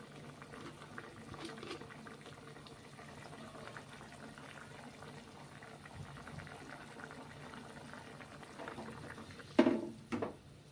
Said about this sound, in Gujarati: આપણું પાણી ઉકળી ગયું છે